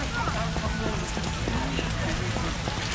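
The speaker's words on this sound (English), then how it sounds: "A scourge of the Lord's this rain." Rain falls in The Witcher: Enhanced Edition video game, a constant patter of drops on surfaces with faint tonal game sounds underneath.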